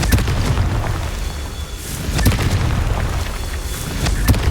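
The Confringo spell in Hogwarts Legacy bursts in dense, rumbling explosions with sharp cracks layered over steady game noise, loud and continuous.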